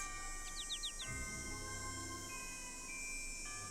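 A robin in the Nancy Drew: Ghost Dogs of Moon Lake video game chirps a quick run of four or five bright descending notes over a steady ambient game drone with sustained tones, no talking.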